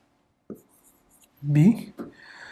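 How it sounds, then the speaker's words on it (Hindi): Chalk or marker writing on a board during a maths class on straight lines and coordinates, a short tap followed by a burst of scratchy strokes under brief speech. "इसको यहां से इरेज कर देते हैं, इसको पूरा ही अलग लिख देते हैं"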